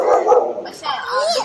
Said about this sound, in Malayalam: അവള് കുരയ്ക്കാൻ പോയി.